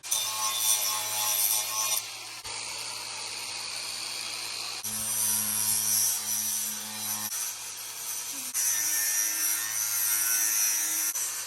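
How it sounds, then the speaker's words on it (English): An angle grinder grinds the edges of custom car rear diffuser fins, with loud high-pitched whining bursts that stop and restart between passes along the metal. "I'm gonna have to use a grinder, and I'm gonna grind all the edges, make them clean"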